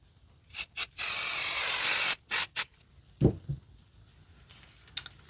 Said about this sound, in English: So now I'm going to spray the back of this and flip it